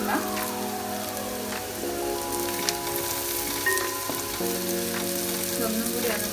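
Curry leaves crackle and spit in hot oil with shallots, a steady close sizzle with brief sharper pops, while cooking a mutton curry; a musical tone runs beneath and nobody speaks.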